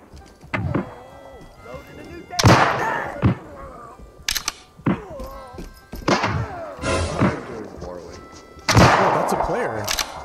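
Several sharp gunshots ring out in the A Twisted Path To Renown video game, scattered across the stretch and mixed with frequent talk from players.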